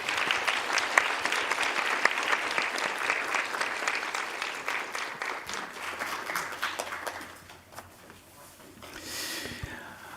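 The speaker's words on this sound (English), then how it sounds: "let us give a big round of applause to the excellent panelists" An audience at the close of a panel discussion on women, peace and security gives steady, dense applause that carries on for several seconds, then thins and fades before a brief final swell.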